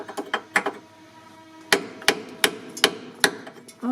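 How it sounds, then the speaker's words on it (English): Repeated sharp metallic hammer strikes on a chisel against a rusty car chassis, irregular at first, then steadier, with ringing reverberation after each blow. "And now I'll see if I can hammer and chisel that out"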